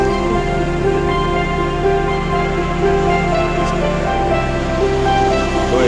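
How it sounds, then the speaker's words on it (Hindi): Ocean waves break on Puri beach in a steady, close roar of surf that fills the whole stretch without letup, with a faint tonal hum running underneath. "ये वेव बड़ी होगी क्योंकि उसको ना पीछे से देखो, एक पे एक फ्री है और एक काफी ऊंचा आ गया"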